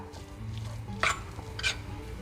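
Tuna salad being mixed with a tablespoon of spicy mayo, a quiet wet stirring with two brief clinks of utensil on bowl.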